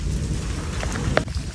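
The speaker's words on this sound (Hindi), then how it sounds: "बहुत तेज बारिश हो रही है" Heavy rain pours down hard on a vehicle during a storm, a dense, loud hiss with a low rumble underneath and a couple of sharp knocks near the end.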